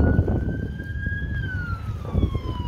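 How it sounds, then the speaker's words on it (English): An ambulance siren sweeps through a long rising then falling wail outdoors on a 4th of July night, fairly loud over low rumbling background noise. "Oh, there's an ambulance."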